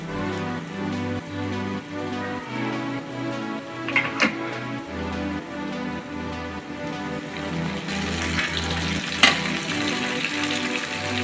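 Tomatoes frying in a pan for a mutton curry with mung dal: a continuous close sizzle with occasional stirring scrapes and a few sharper pops, under a steady low hum.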